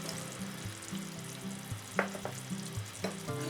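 Carrots tipped into a pan of simmering pork and chicken adobo, giving a steady close sizzle and bubbling with a few sharp scraping stirs and clatters over about three seconds, no voices.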